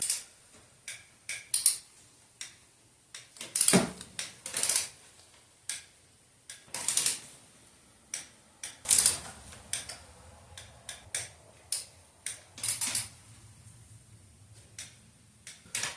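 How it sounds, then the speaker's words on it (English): A click-type torque wrench set to 22 foot-pounds tightens bolts on an LS L96 engine during a cam swap, giving a steady run of sharp ratcheting clicks and snaps, close and distinct, with no talking. "First one is my click type, set up for 22 foot-pounds."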